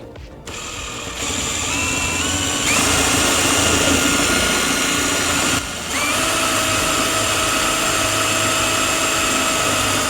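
A power drill runs loudly and continuously, its motor whine rising in pitch as it bites into a small block of wood, with a brief dip midway before resuming.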